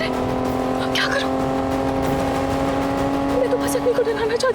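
A car racing along with its brakes failed, heard as a loud, steady engine drone that holds for the whole stretch, with a wavering tonal squeal rising near the end and a faint voice mixed underneath.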